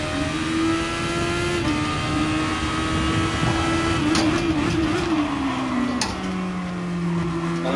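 Open-wheel race car in the game GT Sport, a loud steady engine drone with pitch shifting as it shifts and slows, then dropping lower toward the end, with no talk over it.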